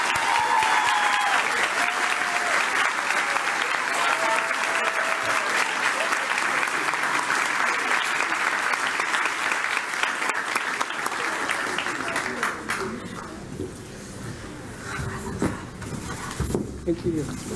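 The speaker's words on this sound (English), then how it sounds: "Please join me in a round of applause" Sustained audience applause fills a hall at a public speaking award ceremony, dense and steady clapping for about twelve seconds before thinning out into scattered claps.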